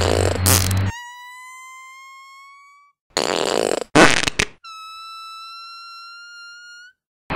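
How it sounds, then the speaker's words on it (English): A loud, squeaky fart with a rising whistle-like tone, followed after a pause by a second long, reedy fart; short bursts of noise between them. "Did you just fart?"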